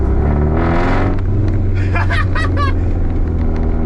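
A Nissan 240SX with a freshly rebuilt engine roars loudly from inside the moving car, a constant heavy drone with shifting pitch. Excited voices briefly break through over it.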